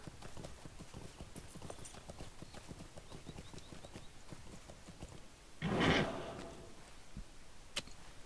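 Horse hooves clip-clop in a steady rhythm while riding in the Lord of the Rings Online video game, with a brief whinny partway through and a single sharp tick near the end.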